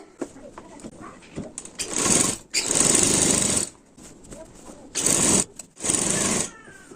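A sewing machine stitches the crotch seam of a salwar or palazzo in several loud rapid bursts of mechanical whirring, separated by pauses with small handling clicks.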